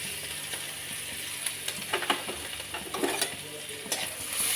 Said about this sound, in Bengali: আর এই রসুনটা দিয়ে দিলাম।